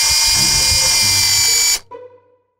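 A chainsaw's loud, high-pitched motorized whine runs steadily, then cuts off abruptly, leaving a brief sputtering tail as it winds down.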